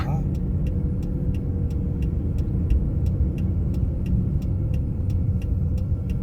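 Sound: car driving on a road test course

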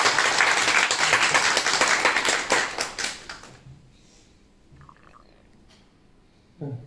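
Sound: clapping on a dance film set

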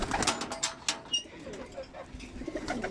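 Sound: pigeons cooing

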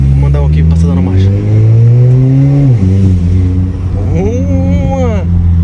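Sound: Yamaha XT660 motorcycle passing by, shifting gears

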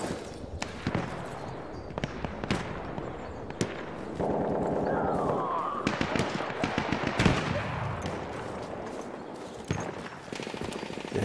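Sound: gunfire in the video game Battlefield 1

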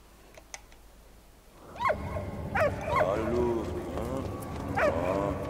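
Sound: dog barking in video game Valiant Hearts

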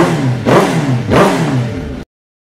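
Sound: rebuilt engine of a disinfection truck running and revving

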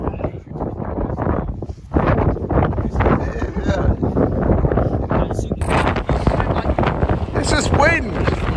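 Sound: wind blowing on a Peak District hill

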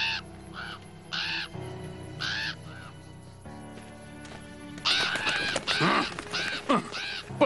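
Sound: crows cawing over a sheep flock in farm video game

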